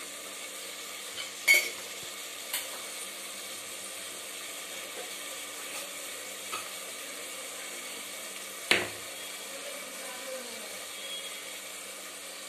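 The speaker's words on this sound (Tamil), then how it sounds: "நல்லா வதக்கிக்கலாம்." Tomato rice ingredients with turmeric, fennel and cumin sauté in a pan, giving a faint steady sizzle broken by a few sharp clinks of a spoon against the pan, and no one speaks.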